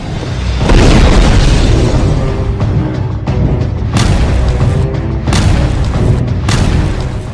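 Repeated heavy blasts and booming explosions from an attack on Israeli army positions, loud and close, with rolling rumble filling the gaps between sharper bursts.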